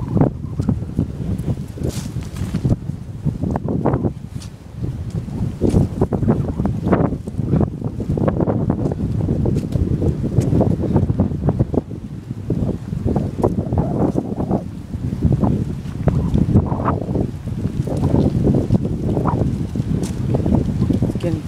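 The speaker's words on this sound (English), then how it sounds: "Getting pretty windy." Wind gusts buffet the microphone outdoors beside an old rusted railroad track, a loud, uneven rumbling roar that swells and fades throughout with no break.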